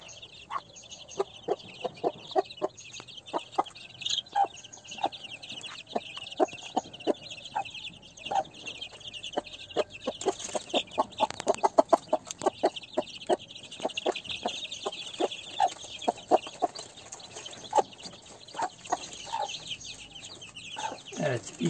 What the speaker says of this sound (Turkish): Evet, 2 günlük civcivler ve 15 günlük civcivler yan yana arkadaşlar.